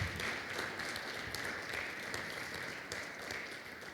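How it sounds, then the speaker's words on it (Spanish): A church congregation at a Spanish-language service applauds in steady, dense clapping that fills the room for several seconds. "¿Le puede dar otro aplauso al Señor?"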